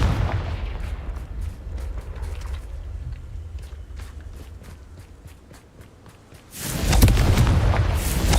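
In Hogwarts Legacy combat, scattered thuds and impacts give way to a sudden loud Confringo explosion near the end, a broad roaring blast that stays sustained to the close.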